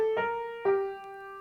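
Two sustained melodic notes on a keyboard-like instrument, bar 14 of a beginner piece played as a tutorial example, clear tonal tones with strong harmonics, alone with no talking.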